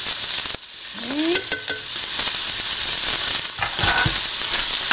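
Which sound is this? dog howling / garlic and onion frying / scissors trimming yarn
garlic and onion frying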